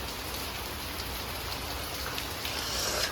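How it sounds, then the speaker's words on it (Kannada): Steady rain falls outside onto wet tiles, a dense, even hiss that stays constant from start to finish with no voices. "ಹೊರಗಡೆ ಮಳೆ ಬರ್ತಾ ಉಂಟು, ನೋಡ್ಕೊಂಡು ಬರೋಣ"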